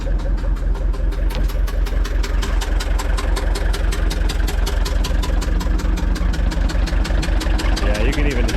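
A Gehl 6635 SXT II skid steer engine idles roughly and unevenly, a steady loud rumble with a rapid pulsing beat running throughout, close by and alone.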